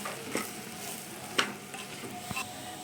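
Wheat rava frying on a slow flame hisses softly and steadily while a spoon stirs it, with a few sharp scrape and tap accents over the constant sizzle.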